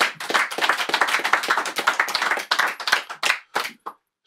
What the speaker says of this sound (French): On peut tous applaudir.